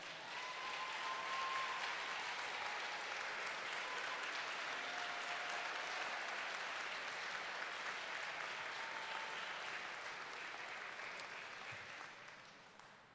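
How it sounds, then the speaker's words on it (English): A long, even round of crowd applause from families in the stands at a high school graduation ceremony, filling the space steadily before gradually fading near the end. "give a round of applause to the people who love you the most, those sitting in the stands"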